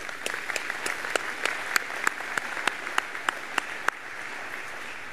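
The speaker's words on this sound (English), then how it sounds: "a round of applause for you" Audience clapping for graduates at a college convocation, a moderate, somewhat sparse round of applause with distinct individual claps standing out, no talking over it.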